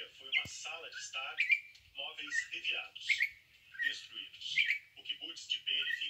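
Campo troupials feed near a sucupira tree, giving repeated bright whistled calls and chirps in short bursts, fairly close, with someone speaking intermittently between them.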